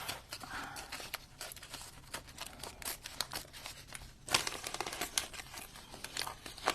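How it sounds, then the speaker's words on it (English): Crinkly tearing and crumpling of a plaid and polka-dot craft material, a close series of rustling rips with sharper bursts partway through, no talking. "Tear it off."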